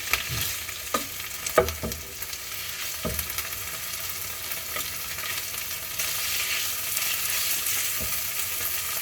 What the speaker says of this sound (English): So I'm just kind of stir frying it here